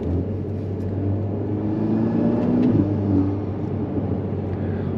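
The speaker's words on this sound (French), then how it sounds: "On entend à l'arrière les retours à l'échappement." Alpine A110 Légende with 252 hp runs steadily with a low engine drone that swells slightly mid-way, exhaust crackle not clearly distinct, heard from inside the car without talk.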